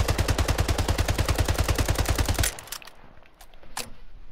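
Fully automatic assault rifle fire in the video game Splitgate, a rapid, steady burst of about two dozen evenly spaced loud shots lasting a couple of seconds, then cutting off to faint, quieter game sounds.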